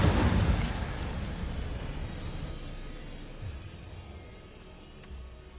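Incendio fire spell blast in Hogwarts Legacy combat: a loud whooshing burst at the start that decays into a fading roar over several seconds, with faint clinks afterward.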